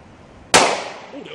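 A single firecracker goes off close by with a sharp, loud bang. Its crack rings out and decays over about a second, with no other sound around it.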